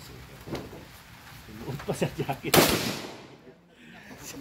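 An armed group fires rounds in a short burst of sharp cracks, one louder report standing out, mixed in with people talking nearby.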